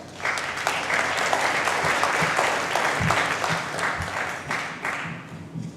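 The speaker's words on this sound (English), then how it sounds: "Give them a fine round of applause." Audience applause fills a UN ECOSOC chamber at a research symposium as panel speakers are invited up, a steady dense clapping that stays loud and even for several seconds with no talk over it.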